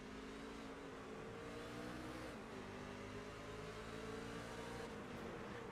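A race truck engine in the iRacing video game drones steadily, with a slight drop around the middle as the throttle lifts before it resumes. The sound is quiet and continuous, with no voices.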